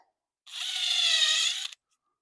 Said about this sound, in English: Drill a little starter hole.